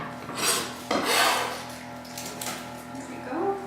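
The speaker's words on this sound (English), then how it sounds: "So just peel the skin off." Dry papery skin crackles and rasps as it is peeled off a red onion in a kitchen, several close scratchy bursts in quick succession.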